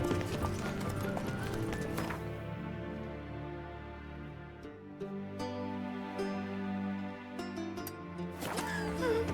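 Roach, a horse in the Witcher 3 video game, gallops with quick rhythmic hoof clops under game music and ambient sound. There is a brief whinny, and the hoofbeats pause and pick up again.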